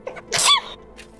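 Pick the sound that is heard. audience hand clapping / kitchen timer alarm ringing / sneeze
sneeze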